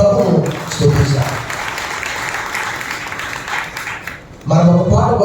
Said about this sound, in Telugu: ఒకసారి బిగ్గరగా చప్పట్లు కొట్టి మన ప్రభువును స్తుతించాలి.